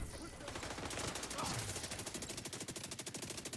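Rapid automatic fire from the Slingshot SMG in The Division 2, a fast, steady stream of close, loud shots repeating through the whole moment with no pause.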